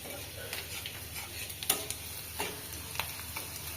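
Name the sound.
bay leaves and cumin frying in oil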